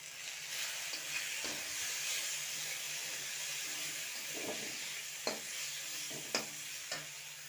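Drumstick (sajne data) curry spices with turmeric and salt sizzle steadily in oil, with a few sharp clinks of a spoon stirring against the pan near the end.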